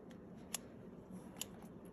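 Scissors give two sharp, quiet snips, about a second apart, trimming a curly felt stem on a mini needle-felted pumpkin, with near-silence in between.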